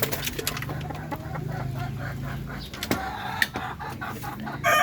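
Old breeder chickens cluck and call around their feeding area, scattered clucks with sharp bursts and a distant crow over a steady hiss that sounds like rain.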